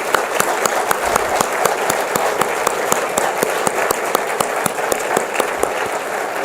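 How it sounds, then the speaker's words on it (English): Standing ovation at a formal launch and code-signing ceremony for Tamara Cook, with steady, dense clapping from a large audience, close and even throughout. "I don't know whether we can get on our feet and just applaud Tamara Cook for all the work that she's done"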